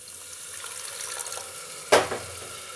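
A small amount of water poured into a hot pan of cooked onion masala for a black chickpea curry: a quiet sizzle and stirring, then a sudden short hissing splash near the end.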